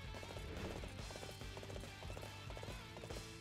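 Horse hooves clip-clop at a steady gallop in Dynasty Warriors 8: Xtreme Legends Definitive Edition on Switch, the rhythmic thuds mixed with loud game music and effects throughout.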